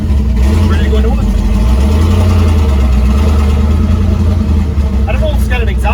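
An old truck engine with a homemade exhaust setup and a possible exhaust leak idles steadily with a deep, constant rumble, loud and close, running throughout.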